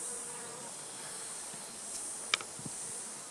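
Honey bees hum steadily and softly around a hive, a low continuous drone with one or two faint clicks.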